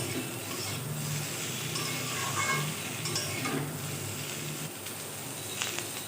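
Bitter gourd and potato pieces fry in a pan with a steady close sizzle, broken by occasional scrapes and stirring clatter, and no voices.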